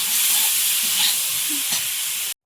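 Taro stems with salt and turmeric fry in hot oil, a loud, bright, continuous sizzle with occasional spits and stirring, cut off abruptly just before the end with no voices.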